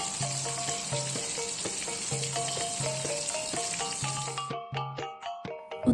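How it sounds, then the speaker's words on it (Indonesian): Salted fish frying in hot oil gives a steady, close crackling sizzle with sharp pops scattered through it, then tapers toward the end. "setelah terong digoreng, kita bisa lanjut dengan menggoreng ikan asin ya Bunda"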